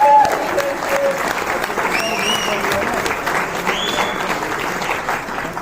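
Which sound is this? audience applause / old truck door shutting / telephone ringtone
audience applause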